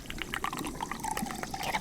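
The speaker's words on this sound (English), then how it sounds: "I actually have to manually pour some boiling water" Boiling water poured by hand into a machine to start it, a close, trickling, splashing liquid stream with small drips, steady throughout with no talking.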